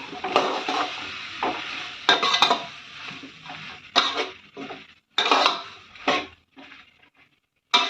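Sambar with dal and brinjal being stirred in a pot, a ladle scraping and knocking against the metal in repeated bursts with short pauses, close and fairly loud, no talking.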